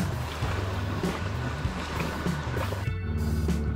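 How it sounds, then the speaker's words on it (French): River water on the Ain laps and splashes steadily around a moving kayak, with wind noise and a low engine-like rumble beneath; no talking. "La fin de la journée agitée par les vagues."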